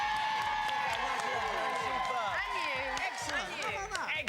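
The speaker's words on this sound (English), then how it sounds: "let's have a big cheer for Jerry" A studio audience on a 2004 children's TV show cheers and claps for a contestant named Jerry. The crowd noise runs loud and continuous throughout, with whoops rising over it and voices talking in the mix.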